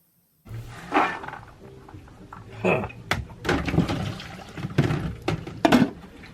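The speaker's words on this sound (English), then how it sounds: "We'll go ahead and rinse those in the sink a couple of times" Soaked beans rinsed under running water in a sink inside an RV kitchen; splashing, gurgling water starts abruptly after a short silence and continues in uneven surges, close and fairly loud.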